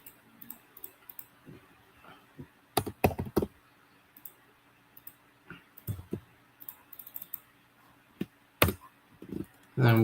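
A computer keyboard clatters as a write-up is typed, with quick irregular clusters of key clicks and taps over a faint steady hum, close by.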